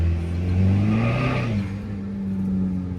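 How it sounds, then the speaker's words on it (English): A car accelerates up a hill with its tires spinning, the engine rising and falling in pitch over a steady rumble, close and loud with no talk. "if I accelerate up the hill, it just completely does burnies. Eats the tires."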